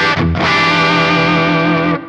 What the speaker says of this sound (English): if I go from the full humbucker sound here on the Screamin Demon